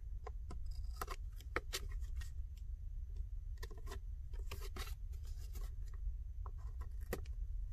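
Scissors cut tape with soft snipping and rustling sounds, several quick irregular cuts and scrapes over a low background hum, close and fairly quiet.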